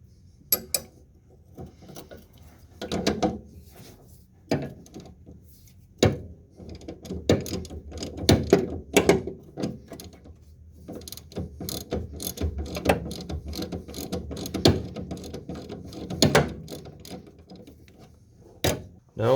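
A hand ratchet clicks in repeated bursts while removing a sway bar end link on a Nissan Z31, rapid pawl clatter with pauses and clunks of metal parts, close and fairly loud.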